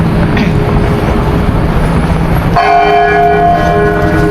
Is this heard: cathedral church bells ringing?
yes